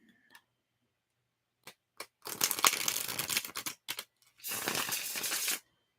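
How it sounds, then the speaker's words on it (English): Tarot cards are shuffled up close in a quiet room: a few isolated taps, then two long, dense riffling bursts with crisp papery flutter, separated by brief clicks and silence. "I'm going to start shuffling the cards"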